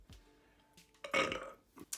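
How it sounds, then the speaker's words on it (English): A single loud burp erupts partway through, set between quiet breathy rustles and short clicks, with no talking. "Probably need to wait longer after burping."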